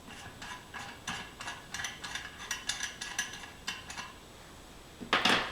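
A small brass nut is turned off a carousel gumball machine, giving a run of light metallic ratcheting clicks in an uneven rhythm that ends in a brighter clink of metal, with no talking.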